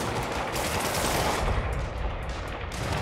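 Sustained automatic gunfire is aimed at the player during a police shootout in the Spider-Man PS4 video game: dense, loud, continuous bursts with no pause over three seconds and no talk.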